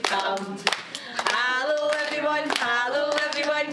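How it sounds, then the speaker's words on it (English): Hands clap in time during a children's hello song. A woman sings the melody throughout while sharp, evenly spaced claps punctuate it close to the microphone. "We're going to do our clapping."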